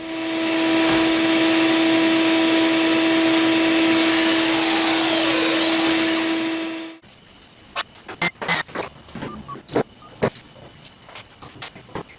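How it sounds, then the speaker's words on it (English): A power drill boring pocket holes for 1 1/4 inch pocket screws in 3/4 inch material for a workbench assembly table: a loud steady whining roar for about seven seconds, then stops, followed by clattering knocks and handling noises. "So I'm ready to cut these pocket holes."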